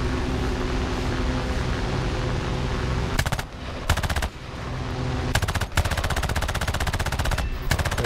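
Rapid aircraft machine-gun bursts in War Thunder, a Ki-10-I biplane dogfight, loud and continuous over engine drone, with short pauses between several strings of fire.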